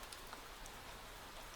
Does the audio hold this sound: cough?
no